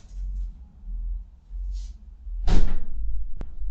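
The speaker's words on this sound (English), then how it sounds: "let me close the door" A door in a hangar workshop swings shut with one solid thud and rattle after faint shuffling movement, close and fairly loud, with no talk over it.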